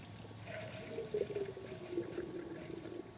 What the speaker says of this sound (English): a lot of times you can blow on these and try to blow all the water out